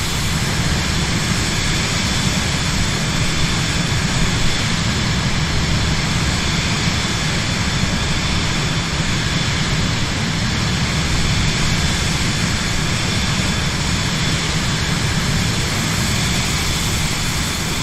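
Steady, loud cabin drone of a Cirrus Vision Jet G2's single jet engine cruising in Microsoft Flight Simulator, an even broadband roar with a low hum underneath and no change for the whole stretch.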